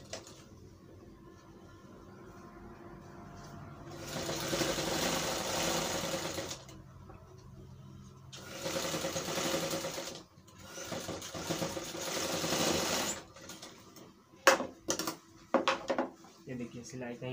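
Sewing machine stitching a seam on a Nehru coat, three sustained whirring runs of a few seconds each, separated by pauses, then several short sharp clicks and clatters near the end; no talking.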